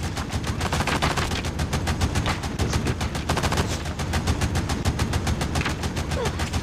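Nonstop automatic gunfire in the mobile shooter Call of Duty Mobile on the Alcatraz map, a fast, evenly spaced stream of sharp shots that keeps going without pause.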